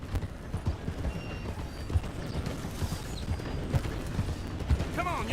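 Horse hooves clip-clop at a rapid gallop in Red Dead Redemption 2, a steady rhythm of thuds under game noise and a brief whinny near the end, with a voice speaking intermittently.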